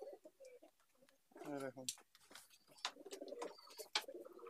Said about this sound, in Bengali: হ্যাঁ, হ্যাঁ পায়রাগুলো, এই যে নর, এই নর পায়রা।